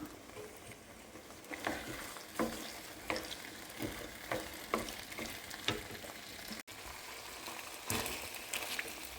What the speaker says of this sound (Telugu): ఇప్పుడు కాగిన నూనెలో చికెన్ వేసుకున్నాము. ఉప్పు పసుపు వేసి బాగా కలిపెడదాము కొంతసేపు.